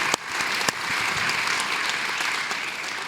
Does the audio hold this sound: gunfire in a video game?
no